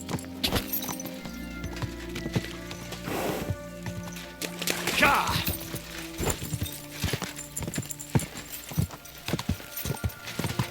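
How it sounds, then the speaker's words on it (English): Hooves clop steadily as a horse gallops in Kingdom Come: Deliverance II, a brisk rhythmic pounding with game-like ambience, and a brief whinny or splash partway through. "We're gonna have to run over there on the horse."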